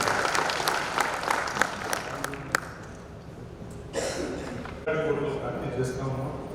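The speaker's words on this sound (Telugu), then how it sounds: "మరొకసారి అందరూ వారికి ఇద్దరికి చప్పట్లతో" Applause for two honorees at a felicitation ceremony combined with a birthday celebration, with scattered claps at first that thicken into steadier crowd clapping, and a voice talking over it.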